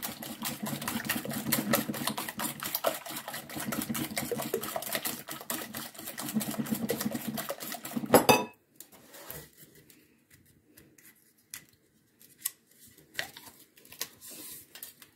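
Milk being whisked into flan batter of eggs in a bowl, fast, even rhythmic beating for about eight seconds, then it stops and a few scattered knocks follow.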